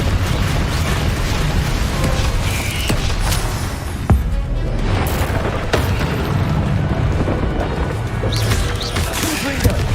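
Confringo blasting-spell explosions boom and crash repeatedly in Hogwarts Legacy combat, a dense, loud wash of fiery impacts with sharp cracks scattered throughout and occasional speech beneath.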